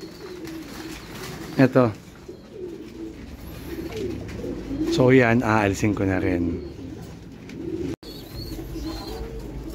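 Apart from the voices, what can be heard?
bird cooing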